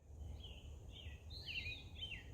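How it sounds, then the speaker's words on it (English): A western wood pewee, a flycatcher, calls on a forest bird walk; a few faint, thin whistled notes at a distance over low background rumble. "That pew, it's a western wood pewee."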